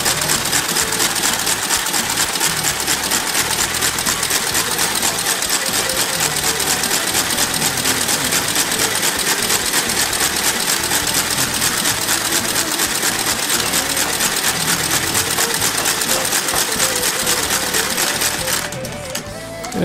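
A stitching machine works leather cowboy boots in a Chihuahua, Mexico boot shop, a loud, steady, close mechanical whir with a rapid rhythmic beat that runs unbroken for the whole stretch, fading slightly only at the very end.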